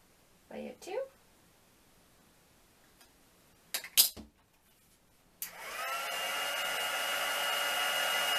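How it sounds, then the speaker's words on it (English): Heat tool drying stamped white pigment ink on paper switches on after a few brief handling clicks and rattles, then runs as a steady, close, loud blowing whir to the end. "I'm going to heat it with a heat tool"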